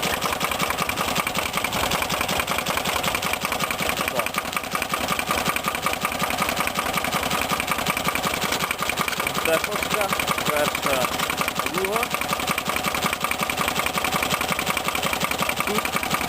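A homemade mini tractor with an IFA 2VD-8/8svl engine ploughs a field, its engine chugging steadily and loudly close by, with a constant rhythmic putter running through the whole clip.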